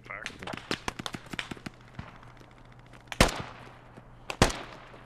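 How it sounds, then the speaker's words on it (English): Incoming gunfire in the Squad military shooter game: a rapid series of sharp cracks early on, then two louder, closer shots near the end, with a steady low hum and speech-like activity around them. "Yeah, I'm taking fire."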